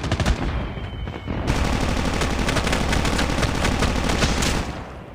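Automatic weapons fire in the Call of Duty Mobile shooter game rattles out in loud, dense, rapid bursts that run almost continuously for several seconds.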